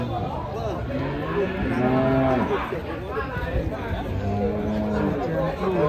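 Belgian Blue cattle low repeatedly at a busy market. The deep, drawn-out moos overlap one another close by, under constant crowd chatter and people talking.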